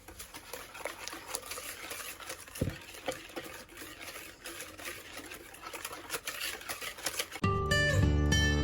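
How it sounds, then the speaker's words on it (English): Ingredients for a maple apple upside-down cake being whisked in a bowl, a steady close scraping and clicking rhythm that runs for several seconds before a brief louder burst at the end. "Now we can just whisk that in."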